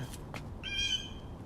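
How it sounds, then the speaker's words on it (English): Birds outside a room give a faint, short, tonal chirping call partway through, heard distantly over a quiet background hum. "And apparently the birds are outside."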